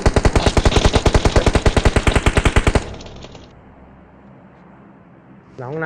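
Automatic weapon fire in the game PUBG Mobile: a loud, fast, evenly spaced burst of around thirty shots for nearly three seconds, then a quieter tail and silence before a faint sound at the end.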